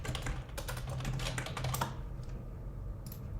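Rapid keystrokes on a computer keyboard rattle close by for about two seconds while entering spreadsheet values, then trail off into a few scattered taps and quiet.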